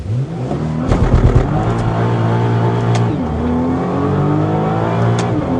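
A Nissan R35 GT-R leaves on launch control, its engine held near 4,000 RPM and then surging into hard acceleration, a loud close roar climbing through quick gear changes with no talking.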